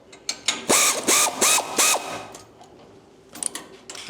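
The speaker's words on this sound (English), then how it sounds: "So get out the noisy air ratchet again. We'll just loosen these spring perch bolts up just a smidge." Air ratchet loosening spring perch bolts on a 1968–74 Chevrolet Nova, four short loud whirring bursts in quick succession, followed by a few fainter clicks.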